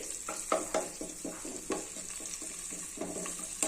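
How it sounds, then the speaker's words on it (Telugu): Fresh curry leaves are dropped into hot oil and crackle in a steady sizzle, with sharp pops and spatters scattered throughout at close range and moderate volume. "ఇది తీసా కరివేపాకు వేసుకోండి"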